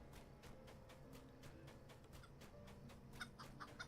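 Chickens cluck faintly in a game world in Lord of the Rings Online, with repeated short clucks in a steady rhythm and a few sharper clucks near the end, quiet and distant, with no talking.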